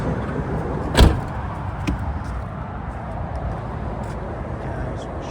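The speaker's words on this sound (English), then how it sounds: "Soft closed doors, soft closed tailgates." A VW California SE 4motion camper's soft-close door or tailgate shuts with a single short, close thud, followed by a quiet, steady background.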